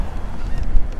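Seabirds feeding over inshore water near Galveston, Texas, give a quick cluster of honking calls, fairly close, against a windy, noisy open-air background.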